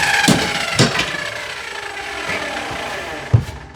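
A power tool whittles down the back of a shower niche board, giving a few short, sharp bursts of cutting separated by quieter stretches of low background noise.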